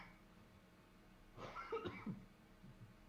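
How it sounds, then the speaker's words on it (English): A judge at a Disney Lorcana card game semi-final gives a short, faint cough of a few rough bursts against quiet room tone. "Unless that was one of the judges that was coughing then."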